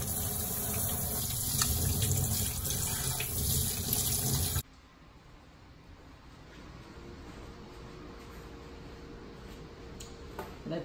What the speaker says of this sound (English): let me clean my hands first